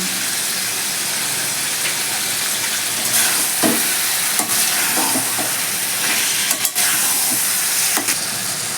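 Mutton pieces stir-fried in a karahi with ground black pepper for a kasha curry, giving a steady, loud sizzle throughout with occasional scraping and stirring sounds, no talking.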